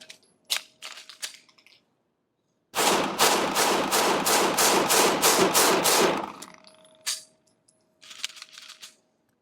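A SIG Sauer P320 polymer-framed pistol fires outdoors: a few loud single shots, then a rapid string of about a dozen sharp reports in quick succession, followed by more scattered shots after a brief pause.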